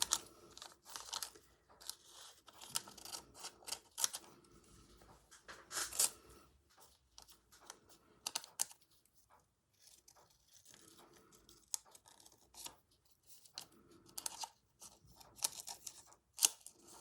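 Scissors cut a leaf shape out of leafy-patterned fabric for an autumn slow-stitch collage, quiet close snips in irregular clusters with short pauses and soft fabric rustling, no talk.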